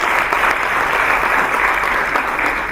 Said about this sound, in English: A big round of applause for the finalists